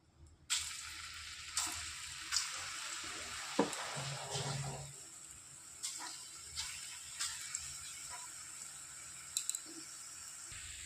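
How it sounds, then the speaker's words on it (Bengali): Taro stolon fritters fry in hot oil with a steady low sizzle, broken by several scraping stirs and clinks of a utensil in the pan, close up and with no talking. "ওই তেলেই বাদবাকি বড়াগুলো ভেজে নেব।"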